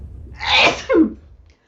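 A single close, loud human sneeze, a sharp breathy burst followed by a voiced release, then quiet.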